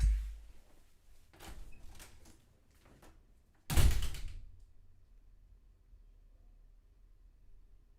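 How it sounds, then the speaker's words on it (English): A front door opening and closing in a home, heard as faint scattered knocks and rattles followed by a single sharper thud, then quiet room tone. "Let me check the front door."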